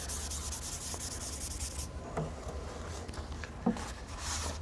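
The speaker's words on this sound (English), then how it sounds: "I use a Scotch-Brite to speed up the process." Abrasive Scotch-Brite pad scrubbing an exterior moldy surface coated with plastic mold cleaner, a steady close rubbing hiss with a few brief knocks and scuffs.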